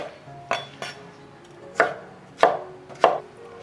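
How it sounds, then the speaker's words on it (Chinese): A knife chops pineapple into chunks on a cutting board, five or six sharp, close knocks spaced irregularly, with quiet pauses between them and no talk. "菠萝切成块"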